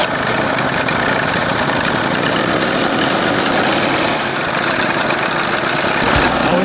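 An outboard boat motor idles steadily while warming up after a flush and thermostat replacement, a constant close, loud running drone with slight vibration and no pauses.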